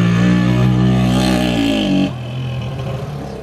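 A vehicle with big back tires spins and roars across a front yard lawn, loud and close, the engine note sliding down before cutting to a lower rumble.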